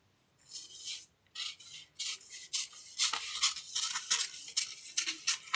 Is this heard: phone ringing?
no